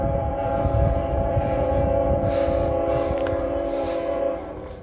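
Extra long grain train with two mid-train DPUs at the Park Avenue East railroad crossing in Guthrie, Kentucky, sounding a loud, steady horn blast that holds for several seconds over rumbling rail noise before easing off at the end.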